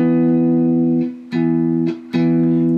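A clean electric guitar power chord of two notes, root and fifth, with no overdrive, struck three times; each rings steadily and is briefly damped before the next.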